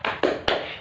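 The class clapping routine 'tepuk semangat' in a grade 3 lesson, heard as three quick, sharp claps close by in rapid succession.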